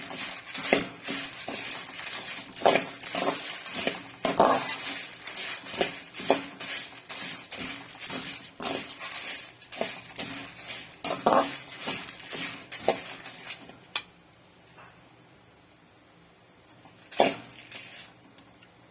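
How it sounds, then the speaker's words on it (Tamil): About fifteen dried red chillies roasting in a pan for a dried drumstick-leaf lentil powder, with frequent clinks and scrapes of a utensil against the metal pan over a quiet background, ending in a near-silent stretch broken by one final scrape. "ஒரு பதினஞ்சு வரமிளகாய இதில் சேர்த்து வறுத்துக்கலாம்"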